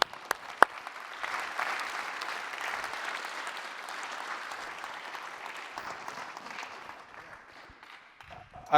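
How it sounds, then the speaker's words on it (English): Applause from an AGM audience after a speech, a soft, fairly distant wash of clapping that stays steady at low level through most of the stretch, then fades, with a brief sound near the end. "Let's give him a round of applause."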